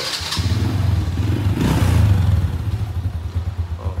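A 1994 Honda Dream Thai motorcycle engine runs close by, a loud steady rumbling putter with clattery mechanical ticking and a brief rev swell midway.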